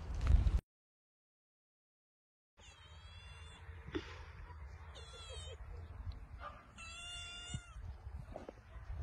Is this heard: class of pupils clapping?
no